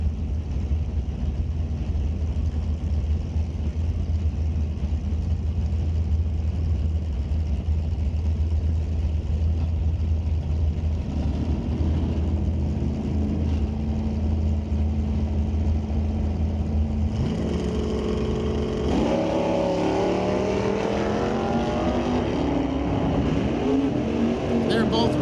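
Two drag racing cars, an R-Stock Automatic Mercury Comet and a 1969 F-Stock Automatic Chevy Camaro, at the start line of the NHRA Canadian SPORTSnationals: a steady engine rumble that builds into sharp rising revs near the end, under an announcer's voice.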